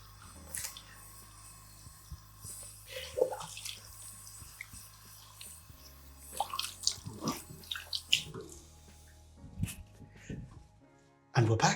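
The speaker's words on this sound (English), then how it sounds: "I'm just going to wash off, bear with me." Water splashes and runs from a tap as a man washes his face off after shaving, with intermittent splashes and trickles close by over a low hum, and a final louder gush at the end.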